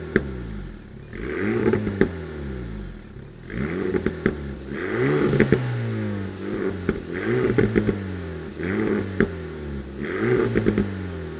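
Alpine A110 sports car exhaust in Sport mode, accelerating hard through repeated gear changes, with rising engine tones and sharp crackles between shifts, loud and close with no talking.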